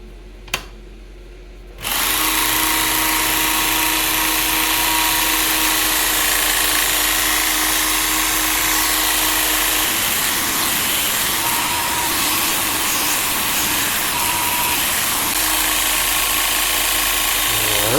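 A stainless N690 steel paring knife blade is sanded at 800 grit on a powered grinder or belt sander that starts up after a brief quiet moment, then runs as a loud, steady whir whose pitch shifts as the blade is pressed on. No one talks.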